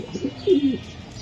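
A pair of red checker racing pigeons lets out a short, close burst of throaty cooing, a couple of quick rolling notes and then quiet.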